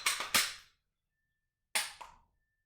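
Dry-fire trigger pulls on an unloaded Glock 20 10mm pistol give two sharp, close metallic clicks with a silent gap between them. Each click has a quick double snap.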